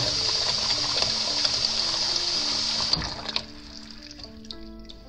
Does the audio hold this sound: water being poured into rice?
yes